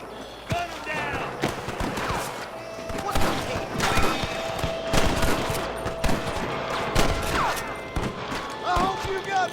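Rapid bursts of gunfire in the Red Dead Redemption video game, sharp cracks fired repeatedly across a busy fight, with shouted voices and other game sounds mixed in.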